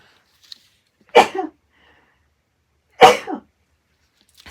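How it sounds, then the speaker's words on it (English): Two sharp sneezes about two seconds apart, loud and close, each a quick burst trailing off, with near silence around them. "Oh no, I'm gonna sneeze."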